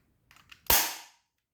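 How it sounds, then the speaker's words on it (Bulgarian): A Sig Sauer P226 spring airsoft pistol fires a pellet: a couple of soft mechanical clicks, then one sharp, close crack that fades quickly. "да изстреляте вашата сечма."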